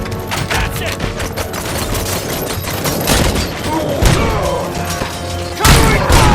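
Dense gunfire and booming impacts from a firefight in the video game RoboCop: Rogue City, loud and continuous with thuds and crashes layered throughout, and voices shouting over the battle.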